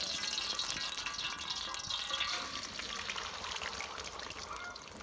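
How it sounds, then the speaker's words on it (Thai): Vegetable oil going into a hot frying pan, a steady close sizzle and frying hiss with a faint trickling pour, continuous and fairly loud throughout with no talking. "เริ่มจากตั้งกระทะให้ร้อนแล้วก็ใส่น้ำมันพืชลงไปพอประมาณนะครับ"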